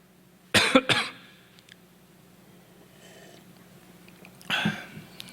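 Two harsh coughs in quick succession, then a quiet pause before another single cough, close by and loud against a low background hum.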